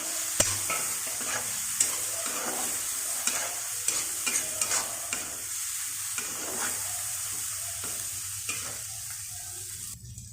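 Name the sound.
spice masala frying and being stirred in oil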